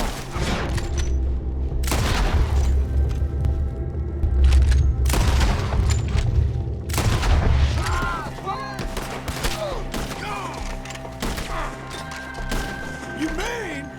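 Sustained gunfire in a Red Dead Redemption 2 shootout, dense volleys of shots and booming blasts throughout, loudest in the first half, with voices shouting under the fire.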